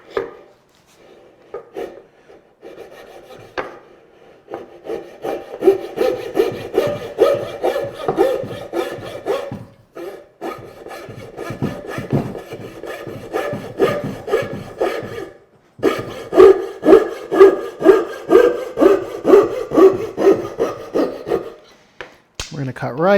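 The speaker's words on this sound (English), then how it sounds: "I'm going to take a coping saw." Coping saw cutting wood by hand for a half-lap joint on a Shaker bench: close, rhythmic back-and-forth rasping strokes, steady and fairly loud, with a brief pause midway and no talking.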